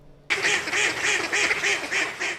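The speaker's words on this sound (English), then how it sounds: "Quacking ducks are part of the tapestry of a barnyard." Ducks quacking in a barnyard, a close, loud run of rhythmic quacks repeating steadily in quick succession after a sudden start, with no talking.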